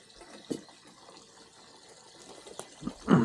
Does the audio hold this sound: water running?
yes